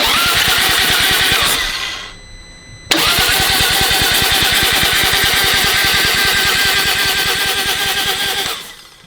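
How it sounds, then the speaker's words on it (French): Motorcycle engine on a touring bike with a stage 2 upgrade, started for the first time after an oil pump was fitted. It fires up loudly, drops out briefly, restarts and then runs steadily at close range before cutting off. "tu vas faire tes premiers tours de moteur"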